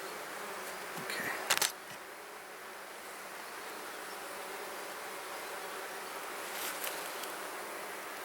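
Honeybees buzz steadily at a hive with no brood, a soft continuous drone with a few brief louder clicks and handling noises near the start.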